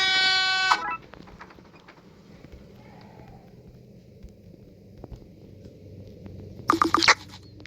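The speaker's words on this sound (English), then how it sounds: "did I waste that air horn?" A loud blast of a held air horn sounds at the start in Dandy's World, followed by a quiet stretch with faint rustling and scratching. A second brief, harsh burst comes near the end.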